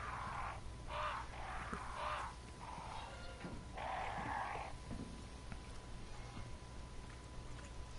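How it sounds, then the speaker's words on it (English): Crows caw several times in Resident Evil 4 Remake, a few harsh calls spread through the first five seconds over a steady rain-like hiss, with no talk. "I hear the crows. I remember the crows."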